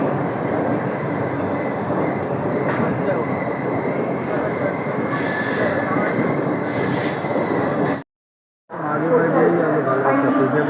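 A fast train runs on its rails with a loud, steady rumble and high squealing wheels, broken only by a brief silent gap before the clatter resumes. Voices are faintly audible beneath the noise.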